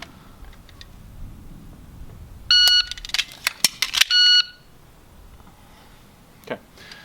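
A shot timer beeps to signal the draw, two short loud electronic beeps bracketing a quick burst of sharp cracks and clicks from an Atlas Titan pistol being fired and reloaded, followed by quiet and a faint later click.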